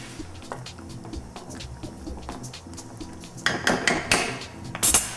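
Tomatoes being stirred and crushed in a pot of marinara sauce, soft repeated knocks and squelches with a few sharper scrapes and clanks toward the end, close and fairly quiet with no talking.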